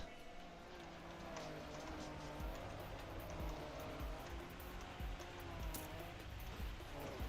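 A rally car drives on an ice map in a racing video game, its engine a steady tonal drone that rises and falls through gear changes, heard throughout under a talking voice.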